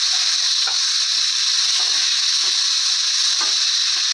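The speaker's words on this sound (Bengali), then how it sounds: "দিয়ে ভালো করে ভেজে নেব।" Flat beans (shim) fry in a pan with salt and turmeric, giving a steady, loud sizzle throughout, broken by occasional soft stirring knocks and clinks, with no voices.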